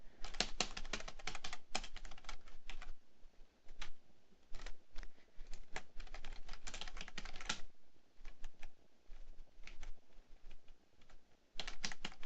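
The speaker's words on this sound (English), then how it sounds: "Why is my typing delayed?" Rapid clattering keystrokes on a computer keyboard while typing a chat command in Minecraft, close and steady in bursts with brief pauses, no talking.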